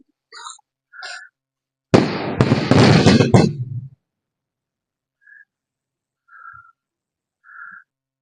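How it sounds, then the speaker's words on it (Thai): A weather-modification flare launched into the sky by an air force team in Chumphon, Thailand, bursts as a loud roaring whoosh lasting about two seconds, framed by faint whistle-like tones before and after. "วันนี้มาจุดพลุ"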